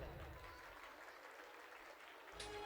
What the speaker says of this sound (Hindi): सबसे पहले असातिज़ा के लिए आप भरपूर तालियां लगाएं